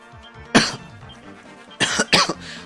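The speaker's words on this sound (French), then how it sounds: "Excusez-moi, je tousse." A person coughs at close range: one sharp cough, then a pair of rough coughs just over a second later, in a quiet setting.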